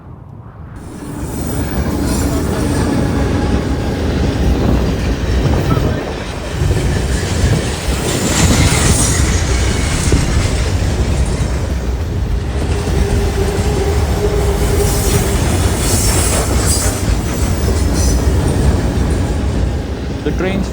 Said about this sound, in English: The train's finally here, and honestly, it's massive.